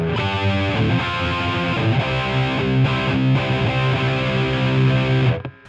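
Dense, heavily distorted electric guitar chugs steadily through the AmpliTube 5 amp simulator with a thick, saturated tone, loud and continuous until it cuts off at the end.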